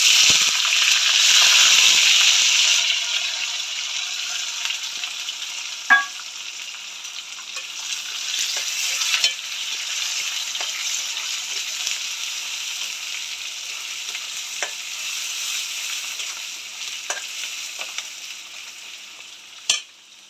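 Sliced onion hits hot oil already holding cardamom and cinnamon in a pan, a loud steady sizzle that eases slightly after the first seconds, broken by occasional sharp pops and utensil clicks, with no talking.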